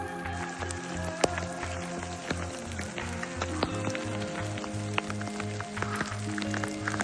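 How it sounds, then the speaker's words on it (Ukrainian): Steady patter of rain on a surface during a hike in the Carpathian mountains, with scattered sharper drops, over a low rhythmic thudding like footsteps. "Дощ чуть-чуть все-таки пішов"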